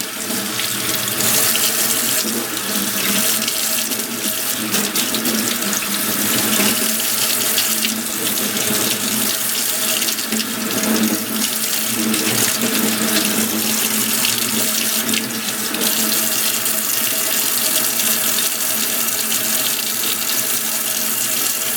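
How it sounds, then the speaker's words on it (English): Tap water runs steadily into a kitchen sink while deveined raw shrimp are rinsed under it, a continuous close splashing hiss with no talk. "I'm just going to go ahead and rinse all that stuff out."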